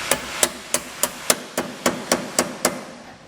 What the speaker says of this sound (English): You want to take a hammer and just tap it until it's flush.